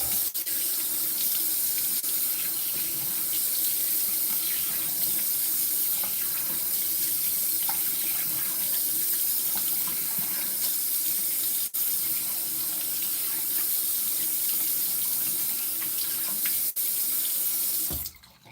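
A bathroom tap runs steadily into a sink for a rinse while shaving, a loud, close, continuous stream of water lasting nearly twenty seconds before cutting off abruptly.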